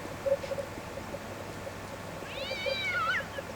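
A cat meowing in the video game Postal 2, one drawn-out, wavering meow rising near the end over quiet ambient game sound.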